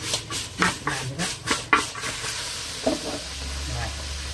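Pickled mustard greens sizzling in a pot that is shaken, for a pork bone soup, rhythmic bursts of sizzle and rattling with each shake, then a quieter continuous fry.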